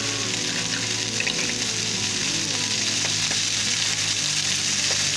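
Food fries in olive oil in a pan for moussaka, a loud, dense, steady sizzle that holds even throughout with faint background tones and no talk.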